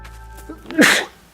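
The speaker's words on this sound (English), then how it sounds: "Another sneeze." A single sharp human sneeze, loud and close, preceded by a quick intake of breath.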